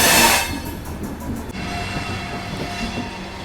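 A New Delhi–Howrah Rajdhani Express passenger train departs New Delhi railway station, rumbling steadily along the rails, its low mechanical roar constant and close, with a brief louder rush at the start.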